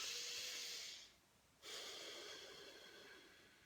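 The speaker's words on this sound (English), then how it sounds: "breathe in for 2 and out for 4. If you can, in and out through the nose" Slow nasal breathing, a soft airy inhale followed by a brief pause and then a longer, steady exhale through the nose, close and quiet with no talking.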